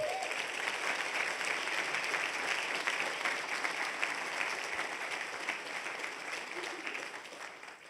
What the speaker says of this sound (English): can you guys give yourself an applause?